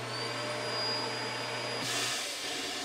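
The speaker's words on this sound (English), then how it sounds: "We've got a built-in vac, so you can lift this up" Built-in floor sweep vacuum in a 2023 Ibex 20BHS travel trailer running with a steady whirring drone and a constant low hum, then a brief louder rush of suction near the end, close and alone without talk.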